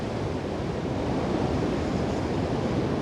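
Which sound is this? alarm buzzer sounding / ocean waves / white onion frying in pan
ocean waves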